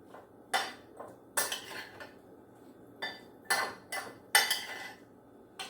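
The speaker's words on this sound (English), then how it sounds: "And so now we just have to stir it up." Oil and vinegar salad dressing mixed one to one being stirred by hand in a bowl, with several distinct clattering bursts of spoon against dish separated by brief pauses, close and fairly loud, no voices.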